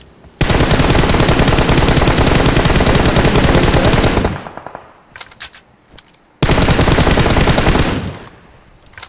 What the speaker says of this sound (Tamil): ஏய் சுட்டுறான் ப்ரோ.